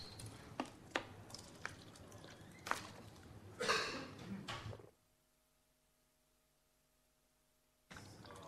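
Water drunk during a lecture: a few close sips and small liquid clicks and swallows, followed by near silence with a faint steady hum.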